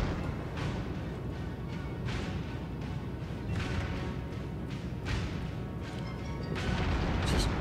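Battleship main guns fire in the video game World of Warships, a series of heavy booming blasts spaced every second or so over a constant rumbling battle background, with no talking.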